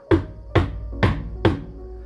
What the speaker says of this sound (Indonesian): Tapi sebelum aku sempat tertidur, ketukan itu kembali terdengar.